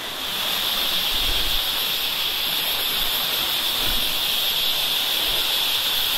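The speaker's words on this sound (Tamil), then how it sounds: "ஃபால்ஸ் பாருங்க." Thalanar Waterfalls in Valparai roar as a steady, loud broadband rush of falling water, continuous and close for the whole stretch with no voices over it.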